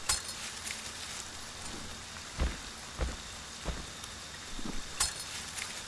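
Rain falls steadily in the horror video game Friday the 13th: The Game, a constant hiss with a few louder drops and thuds standing out at intervals.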